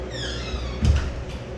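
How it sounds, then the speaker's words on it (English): A door is jiggled and pushed open with a short, close rattle and thump about halfway through, set against a steady low hum and a faint high whine. "I stayed when you opened the door."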